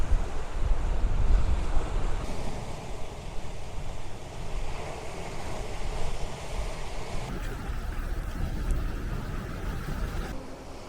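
Wind and sea waves on a rocky coastal shore, with constant gusting wind rumbling against the microphone over the broad wash of surf breaking nearby, steady and fairly loud throughout.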